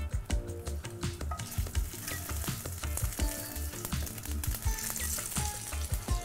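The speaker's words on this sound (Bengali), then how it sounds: "কালো জিরে দিলাম" Black cumin seeds sizzle in hot oil in a pan for Bengali egg curry, a dense steady crackle close up with rhythmic scraping from stirring, no voices.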